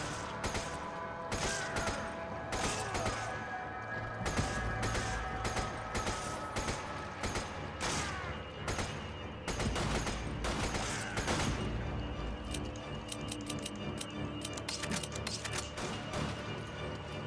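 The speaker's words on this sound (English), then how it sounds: "Why are you shooting me?" Near-constant video game gunfire, rapid cracking shots and automatic bursts layered with mechanical clatter, loud and busy throughout with only brief lulls.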